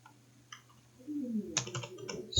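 Typing on a computer keyboard: a few scattered soft taps, then a quicker cluster of keystrokes and clicks, close and fairly quiet, ending on a sharper click.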